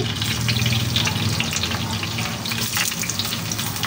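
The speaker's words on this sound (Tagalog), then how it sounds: "Ayan, prito-prito din po natin." Eggplant frying in oil in a kawali whose sides curve up to a bulging centre, a steady close, dense sizzle and crackle that holds at an even level throughout, with no voices.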